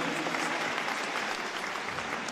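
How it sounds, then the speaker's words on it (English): A packed town hall crowd claps for itself, brisk and loud, a dense unbroken patter of many hands lasting a couple of seconds. "can you give yourselves a round of applause for coming out to hear me?"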